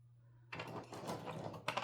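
Bolts are tightened on a wooden Modi Boxi dice tower, a quiet, close run of ratcheting clicks and rattles that starts abruptly after a short silence and ends with a final sharp burst.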